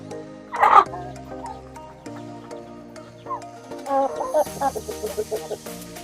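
Shamo roosters in a backyard pen cluck and squawk at close range, with a sharp burst early on and a cluster of clucking calls toward the end, accompanied by faint background cackling.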